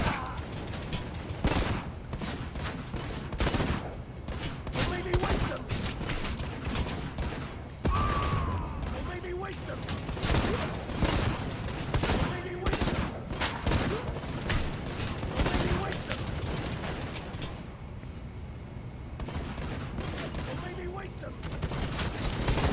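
Rapid machine gun fire in the video game Necromunda: Hired Gun, dense bursts of shots with clattering mechanical weapon noise mixed under a speaking voice throughout.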